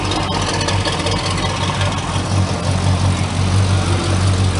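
A rumbly 455 big-block engine idles loudly and close by, producing a continuous deep, throbbing rumble with a slight uneven lope.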